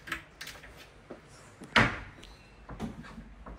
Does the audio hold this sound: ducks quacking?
no